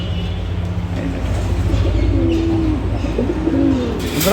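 Several pigeons in a home loft, including two males kept together and two females, coo in rounded, repeated calls close by, with steady low background noise throughout.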